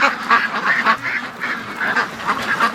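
A duck quacks repeatedly in a steady series of raspy, nasal calls, fairly close and loud, with no talking over it.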